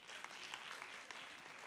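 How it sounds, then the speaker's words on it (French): Faint, distant applause from an audience at a francophone African youth talent show, steady clapping heard alone for under two seconds. "surtout recevons avec une salve d'applaudissements Grâce, 15 ans."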